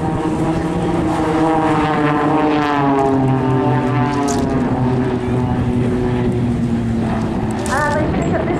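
Propeller aircraft of the Blades aerobatic display team drone loudly overhead at Eastbourne airshow, a steady engine roar with shifting pitch as they perform rolls, while an announcer talks throughout.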